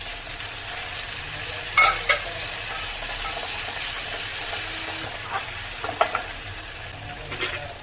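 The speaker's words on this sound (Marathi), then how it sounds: "ही पेस्ट आपल्याला तेलामध्ये छान भाजून घ्यायची" Masala paste with tomato and red chilli powder roasting in oil for a raw banana kofta curry, a steady close sizzle with scattered scraping stir strokes and occasional clinks, no voices.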